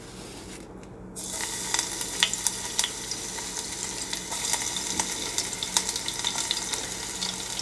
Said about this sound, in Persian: این سریع ترین راه سرخ کردن پیازه.